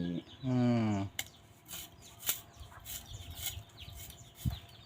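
Chickens cluck in short scattered bursts around a rural home in a Thai village, fairly faint and intermittent, after a brief vocal sound at the start and with background clatter.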